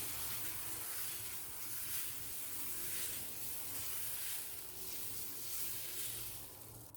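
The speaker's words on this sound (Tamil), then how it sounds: "மாவை கலக்கிட்டு ஒவ்வொரு தோசையாக சுட்டு எடுத்துக்கலாம்" Barnyard millet dosa batter sizzling on a hot pan, a continuous even hiss and crackle that holds steady throughout with no talking.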